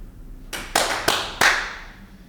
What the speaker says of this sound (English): I'm gonna clap 3 times.